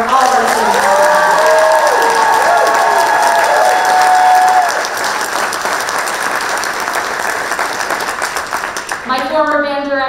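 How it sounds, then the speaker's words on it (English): A crowd gives sustained applause and some cheering for students at a high school holiday concert, steady and loud throughout, with voices calling out over the clapping and speech starting near the end. "So please, another round of applause for all of our students."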